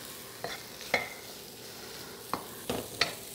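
Vegetables frying in a wok give a soft, low sizzle, broken by a handful of sharp utensil clicks and taps spaced irregularly across the moment.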